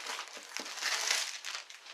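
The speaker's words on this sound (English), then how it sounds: "Why do they have to put the cellophane on so tight?" Tight cellophane wrap crinkles and tears as it is pulled off a Yu-Gi-Oh Legendary Decks 2 box, a close, continuous crackling with a few sharper rips.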